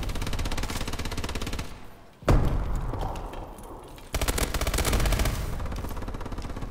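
Rapid, loud turret gunfire in Call of Duty Advanced Warfare, sustained bursts broken by a brief pause, a heavy thump and another long burst.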